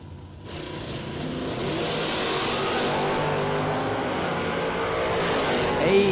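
Camaro Roadster drag race cars launching off the line at a spring drag racing event, engines roaring loud and sustained as they rev and pull away, a steady powerful drone building and holding to the end.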